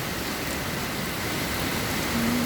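Heavy rain pours steadily outside a window overlooking a flooding parking area, a dense, even hiss that fills the whole stretch with no break.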